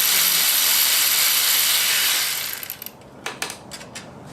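Ratchet with an 8 mm socket loosening the small ABS wire bolt on an S550 Mustang: a steady rasp of clicking at first, then a few separate sharp clicks and knocks as it finishes.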